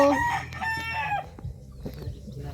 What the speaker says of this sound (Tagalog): Kadaghan bag manok.